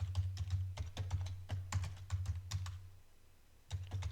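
Quick runs of keystrokes on a computer keyboard with sticking keys as a password is entered, crisp and close, pausing briefly before a final few taps.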